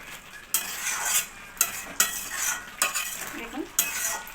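Metal pot lid lifted off a simmering pot of vegetables and borali fish curry, several clanks and scrapes of metal on metal over a low sizzling bubble, close and moderately loud.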